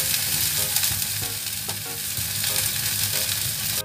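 Water poured into a hot pan while making a simple mie ayam sauce with seasoning, giving a loud, steady frying sizzle and bubbling that runs unbroken for a few seconds before cutting off abruptly.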